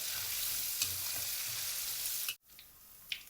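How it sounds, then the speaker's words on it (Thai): Tilapia fries in moderately hot oil over medium heat, giving a loud, continuous close sizzle that briefly cuts out near the end and then resumes, with no talking. "พอน้ำมันเริ่มร้อนนะครับ ไม่ต้องร้อยร้อนจัด ใส่ปลาได้เลย ทอดด้วยไฟกลางๆนะครับ"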